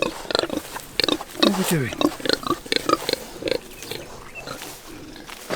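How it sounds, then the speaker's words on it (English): Big, noisy pigs on a homestead grunt and squeal loudly and often, close up, while a person talks briefly over them. "Big noisy pigs."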